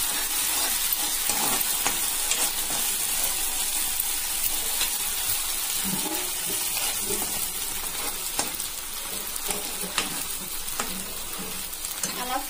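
Chicken Manchurian pieces fry in hot oil with red chilli sauce and chilli colour, giving a steady, close sizzle with occasional stirring scrapes throughout.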